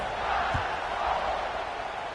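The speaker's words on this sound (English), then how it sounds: "this crowd is buzzing after that last score" A football stadium crowd keeps up a steady, distant buzz after a touchdown during a tied game in the third quarter, forming a broad murmur with one low thump early on.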